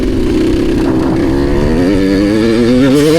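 A Gas Gas 85 MC motocross bike engine runs loudly and steadily, its pitch wavering and climbing as the throttle opens toward the end.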